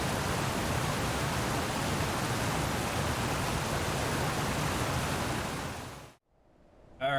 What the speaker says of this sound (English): chilling next to the waterfall is kind of cool